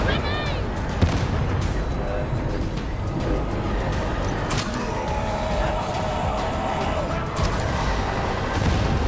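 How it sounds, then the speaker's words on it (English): A grenade blast and sustained gunfire in Warhammer 40,000: Darktide, with heavy booms and rattling shots filling a dense, loud battle mix while a player talks over it. "Grenade!"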